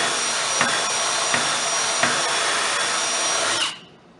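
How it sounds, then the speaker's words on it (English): A power drill bores a pocket into wood down to a depth stop, a loud, steady whine lasting several seconds with faint periodic knocks before cutting off abruptly. "So get your drill running"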